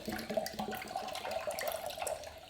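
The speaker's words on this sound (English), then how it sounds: "now it's time to add in evaporated milk to make our cheese whiz" A whole can of evaporated milk pours into a pan for homemade cheese sauce, giving a faint, steady liquid trickle that runs on for a couple of seconds.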